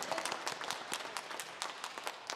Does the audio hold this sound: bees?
no